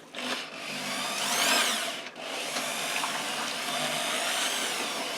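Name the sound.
drill mixing wet mortar for stone wall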